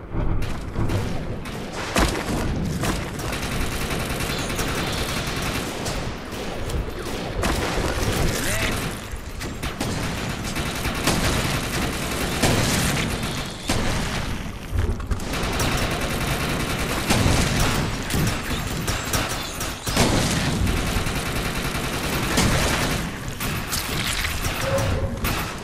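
Dense gunfire and heavy rocket-launcher blasts from the PS4 shooter Defiance 2050 rattle on almost without pause, with booms and bursts stacked together and a voice talking over the din.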